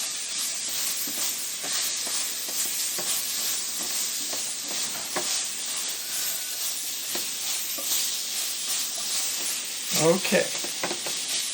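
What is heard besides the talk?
chicken sizzling in pan, mixed with tongs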